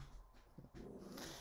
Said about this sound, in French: ils n'arrêtent pas de grogner